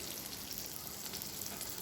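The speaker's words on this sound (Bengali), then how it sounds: "কড়াইতে জিরে ফোড়ন দিয়ে বেগুনগুলো ভেজে নেব" Eggplant frying in a wok with a cumin seed tempering makes a faint, steady crackling sizzle like light rain, with no voices.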